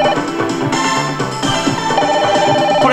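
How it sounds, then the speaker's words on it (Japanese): A telephone rings in the Japanese trucking video game Bakusou Dekotora Densetsu, a steady electronic ringing tone over a continuous bed of in-game music. "電話の音ですね、これね"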